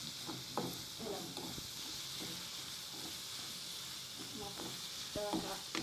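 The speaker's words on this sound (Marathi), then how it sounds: "कांदा लाल होतं चांगला भाजायचा" Onion frying in a pan until it turns red-brown, a soft continuous sizzle under scattered scraping and clinking stir strokes, fairly quiet and close, with no talking.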